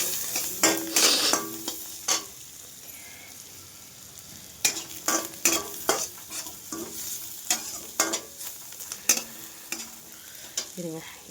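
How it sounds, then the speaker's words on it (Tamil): Onions sautéing in a pan with turmeric, a soft continuous sizzle broken by repeated sharp scrapes and clinks of a spoon stirring against the pan, irregular and close. "வெங்காயம் வந்து இந்த அளவுக்கு வதங்கிடுச்சுங்க"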